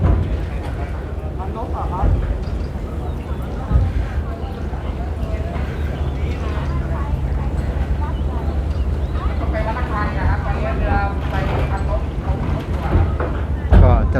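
At Tha Chang pier on the Chao Phraya River, a boat's engine drones steadily beneath wind buffeting and water noise, with someone talking over it much of the time.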